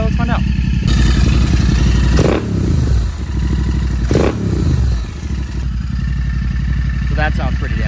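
A Royal Enfield 650 GT motorcycle with its S&S DB killers removed idles loudly up close and is revved twice in sharp, rising blips, settling back into a rough, throaty idle between them.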